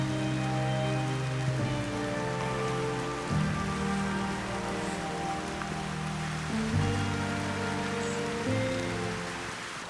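Heavy rain falls beside a river, a dense, steady hiss of drops drumming on surfaces, loud and continuous throughout, with a low hum beneath and no talking.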